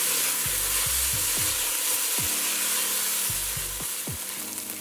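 Washed split peas (dal) lightly salted are stirred in a pot, giving repeated scraping strokes with a spoon over a steady sizzle, several distinct sweeps close up with no talking.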